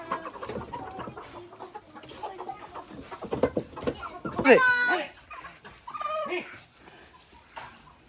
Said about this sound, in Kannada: ಅದು ಬಿಳಿ ಕಲರ್ ಕೋಳಿ.